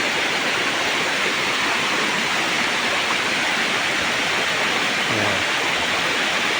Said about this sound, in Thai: ก็ตรงนี้จะเป็นน้ำตกที่ กว้างที่สุดนะครับ